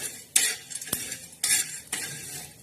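Dal and a little bajri millet being dry-roasted in a pan, with a few sharp scraping and clinking strokes of a metal spoon against the pan at irregular intervals, close and moderately loud, no voices.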